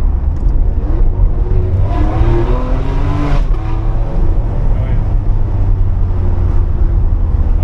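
Ferrari 599 GTB Fiorano engine drones steadily while driving, a loud continuous low rumble with rising harmonic tones as it pulls through the gears, with people talking over it inside the cabin.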